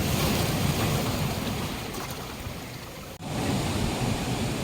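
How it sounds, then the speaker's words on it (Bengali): Sea waves breaking and rushing onto the beach at Digha, a loud continuous surf roar with wind buffeting the microphone, briefly dipping before surging again, no talking. "ঢেউটা আসছে"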